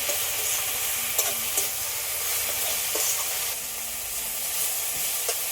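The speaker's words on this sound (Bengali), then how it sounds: "শাকগুলো হালকা করে ভেজে নিয়েছি" Taro greens frying lightly in a pan with a little salt, a steady close sizzle broken by a few soft stirring knocks, with no talking.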